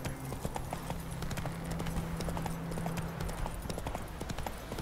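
Horse hooves clip-clop in a quick, regular rhythm while riding in the video game The Witcher 3, with a low steady hum running beneath.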